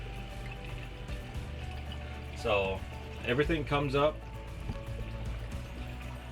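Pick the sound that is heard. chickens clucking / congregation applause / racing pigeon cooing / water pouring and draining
water pouring and draining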